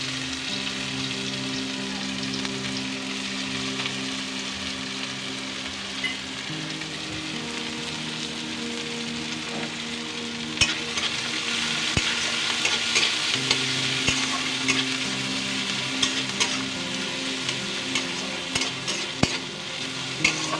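Chopped onions frying in hot oil with cumin seeds in a pan, a steady close sizzle that grows a little louder and crackles toward the end, with no voices.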